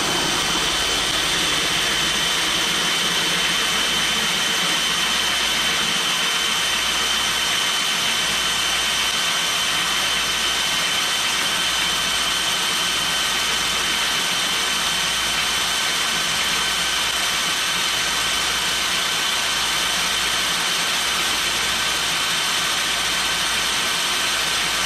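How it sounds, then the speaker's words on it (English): An electric drill runs steadily as its oiled bit cuts a pilot hole in metal for tapping threads, giving a continuous high whine close by for about twenty-five seconds with no talking. "So we'll go ahead and drill our Q hole."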